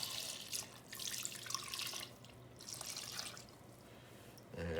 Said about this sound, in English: We're just going to pour this warm duck fat right over the top of it.